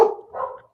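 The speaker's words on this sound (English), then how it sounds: "I'm gonna build walls and prison things in there so the dogs can't see people and bark at them." A dog in a video game lets out a single short, close bark followed by a softer second yelp, with no talking.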